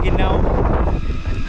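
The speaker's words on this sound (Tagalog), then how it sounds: "Nagrabe yung hangin." Strong, steady wind on Mt. Loboc roars and buffets the microphone, a continuous low rumble with gusty texture throughout.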